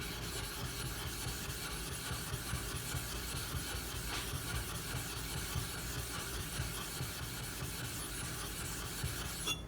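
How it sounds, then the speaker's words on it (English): A sharpening stone being flattened on a diamond lapping plate gives a steady, close, quiet gritty rubbing and rasping that continues unbroken, with no voices. "we'll go ahead and flatten this one too, just to see how out of flat it is, and to give the diamond lapping plate a little use"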